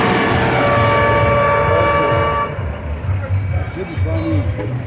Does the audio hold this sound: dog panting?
no